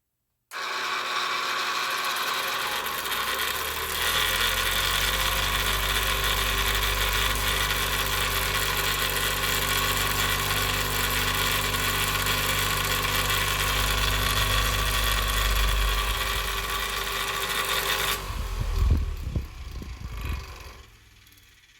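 An old 1950s kitchen exhaust fan motor starts up and runs at close range with a steady droning hum and rattly vibration for about fifteen seconds, then winds down into clunks and knocks.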